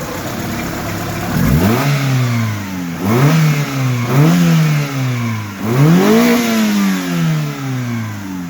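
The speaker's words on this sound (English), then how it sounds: "Let's go and try revving it." A 1.5-liter engine in a Honda-swapped Daihatsu Charade idles, then revs up sharply three times, each rise in pitch falling back to a steady idle; close and loud.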